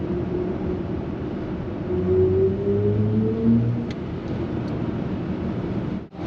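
BMW iX 50 electric car under full throttle at high speed, a rising whine climbing in pitch over road and wind roar, loud and steady without talk.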